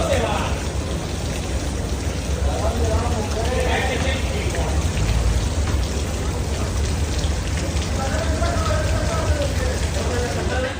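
Heavy rain falling during flash floods in Ibiza, Spain, as a dense, unbroken downpour hiss filling the scene, with indistinct voices faintly mixed in.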